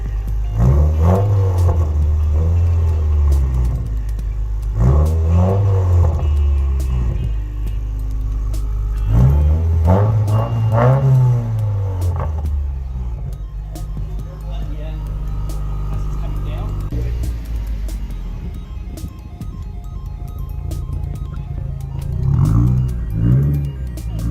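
A Subaru WRX engine with a muffler-delete exhaust revs repeatedly in rising turbo whooshes with a throaty, gurgling rumble, several surges over about twenty seconds, with talking mixed in.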